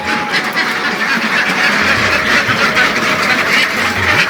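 Ducks on a duck layer farm after days of rain quack in a dense, continuous chorus from a large flock, loud and close, with no talk.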